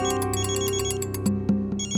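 A phone ringtone for an incoming call plays loudly and close, a repeating melodic electronic tune with sharp accented notes toward the end.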